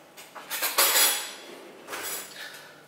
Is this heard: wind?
no